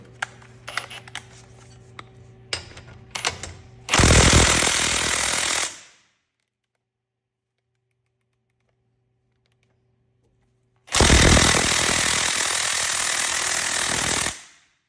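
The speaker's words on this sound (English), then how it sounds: "The swivels soak up a lot of energy with the impact gun." An impact gun on a swivel socket hammers at the tight 21 mm caliper bracket bolts of a 2021–2024 Nissan Rogue SV, in two loud bursts of about two and three seconds. Light clicks of tool handling come first, and there is silence between the bursts.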